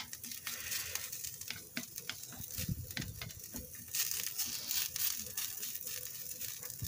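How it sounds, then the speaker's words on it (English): Steady crackling sizzle of potatoes frying in hot oil, with sharp pops and occasional stirring scrapes, close up and continuous throughout. "You hear the oil sizzling?"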